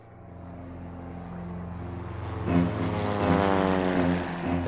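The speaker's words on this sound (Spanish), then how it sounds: "una escuadra de 30 aviones de la Marina de Guerra y la Aeronáutica bombardea la Casa Rosada" A squadron of military propeller warplanes from the navy and air force flies in to bomb the Casa Rosada in 1955, their engines droning steadily and swelling louder as they near, with no voices.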